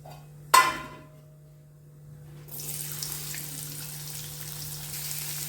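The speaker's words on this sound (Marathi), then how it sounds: "कढई ठेवलेलं आहे, तेल घातले, तर जिरं घालून घेतले." Cumin seeds hit hot oil in a kadhai with a sharp crackle, then a steady, moderate sizzle carries on over a low electrical hum.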